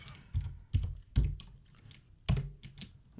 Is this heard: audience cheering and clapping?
no